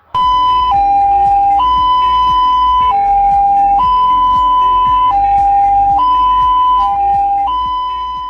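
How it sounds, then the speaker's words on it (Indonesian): An ambulance siren for picking up a patient wails loudly and steadily, alternating between two tones in a slow hi-lo pattern that repeats throughout. "Mari kita mengenal macam-macam suara ambulan."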